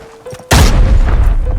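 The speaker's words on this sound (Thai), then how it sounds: "โอ้ระวังนะพี่ระเบิด" A sudden loud grenade explosion in the video game Arena Breakout, booming and close, its deep rumble lingering after the blast.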